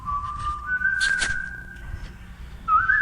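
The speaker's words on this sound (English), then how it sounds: "when you hear that whistle, that means we're moving into our wrap-up segment" A sustained whistle tone held for about two seconds, rising slightly in pitch, then returning after a short pause near the end, clear and fairly close outdoors beside a soybean field.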